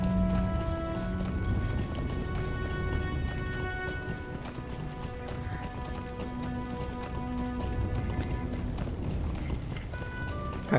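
Rhythmic clip-clop hoofbeats of a ridden horse in Lord of the Rings Online, steady and fairly close, trotting continuously over a low ambient bed with game music tones.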